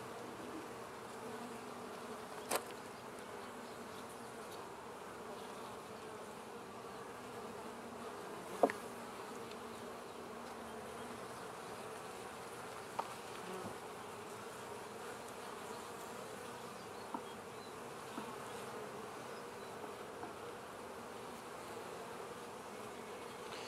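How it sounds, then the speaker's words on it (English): Steady, low buzzing from many honeybees at a hive, with bees carrying pollen, hums throughout, fairly faint and continuous, with a few brief clicks and taps standing out. "There are a lot of bees crawling up the walls here with pollen"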